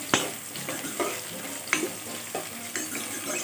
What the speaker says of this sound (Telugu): ఇప్పుడే ఇందులో కరివేపాకు అనేది వేసేసుకుంటాం